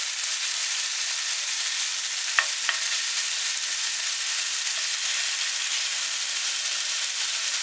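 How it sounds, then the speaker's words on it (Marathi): Cumin and ginger-garlic paste sauté in a pan, making a steady, bright, hissing sizzle throughout, with one or two faint clicks of a utensil and no voices. "छान परतून घेऊया."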